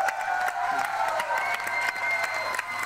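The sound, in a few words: audience applause for Bhau Kadam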